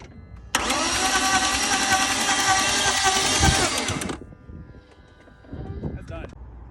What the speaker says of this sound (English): here's a video of me trying to start it afterwards